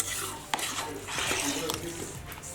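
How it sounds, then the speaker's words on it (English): Butter and sugar being stirred into mixed fruits for a Christmas fruit cake, a wet thick scraping and mixing in a bowl with occasional light clinks of utensil against the dish, fairly close and continuous. "Grammy's going to add it into the mixed fruits. And then she's going to give it a mix so everything's well combined."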